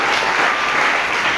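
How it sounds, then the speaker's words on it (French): A church congregation claps together at a Sunday service, a dense, steady burst of applause filling the room with no voices over it. "Est-ce qu'on peut encore acclamer le Seigneur?"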